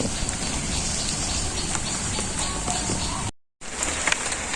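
Steady rain falls in a rural village, a dense continuous hiss with scattered drop patters, broken by a brief gap of silence before the downpour resumes.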